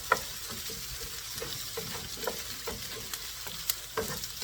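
Shrimp stir-fry with ginger, garlic and onion in a hot pan, giving a steady close sizzle with frequent light spatula scrapes and taps throughout, no voices.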